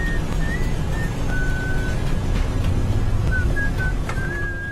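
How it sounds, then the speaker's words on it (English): A co-pilot whistles a wavering tune in an airliner cockpit on a 2010 Peruvian state airline flight. The faint thin whistle drifts in and out over steady loud engine and cockpit roar. "when we heard the co-pilot start whistling"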